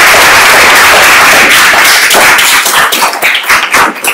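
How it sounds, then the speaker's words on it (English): Loud, close applause from a reunion audience greeting the class of 1973 at an alumni weekend, dense clapping that thins into separate claps near the end. "I want to give a special round of applause to the graduates or class of 1973 on your 50th milestone"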